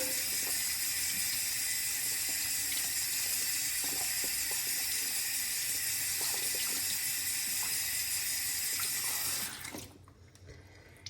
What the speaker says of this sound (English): let's clean off this Cyclotrode brush so you can see it a little better